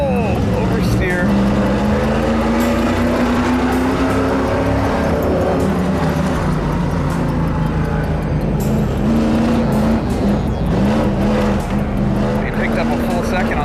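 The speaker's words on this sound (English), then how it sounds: "Oh, drifting, pointing at the wall. Oh, oversteer." A street-legal stock car drifting with oversteer, its engine revving and wavering in pitch as it slides, loud and close throughout, with someone talking excitedly over the noise.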